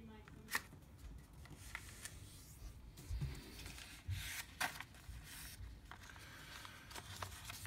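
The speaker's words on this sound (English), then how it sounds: "Then we fold the top left corner down to the bottom edge and creasing at the bottom left corner." A sheet of origami paper is folded and creased while a pentagon pinwheel tessellation is shaped, giving soft crinkles, rubs and a few sharper creasing snaps, quiet and close, under a voice talking.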